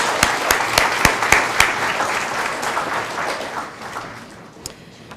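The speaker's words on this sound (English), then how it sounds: "please give another round of applause for all of our staff that have committed so many years of service" Audience applause at an employee recognition and awards ceremony, a burst of sharp claps at the start settling into steady, full clapping from a large crowd that gradually thins and fades toward the end.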